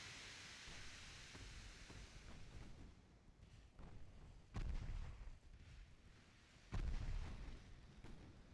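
Naval ship guns fire in the Ultimate Admiral Dreadnoughts warship game, with two heavy, booming discharges standing out over a continuous low rumble of battle noise.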